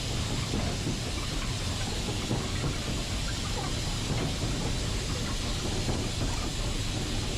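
Steam locomotive 44871 drifting with a breath of steam on along the Swanage Railway, heard from the footplate as a dense, steady rumble and rattle of running gear, loud and unbroken with no talk.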